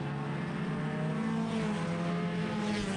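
Stock cars racing at Agassiz Speedway in a street stock event, the 11 car among them, a steady loud engine drone with a sustained tonal whine filling the whole stretch, no voices.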